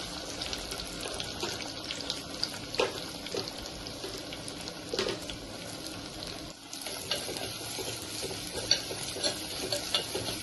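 Onions and green chillies frying in a pan give a continuous soft sizzle with occasional stirring scrapes, fairly quiet and steady throughout.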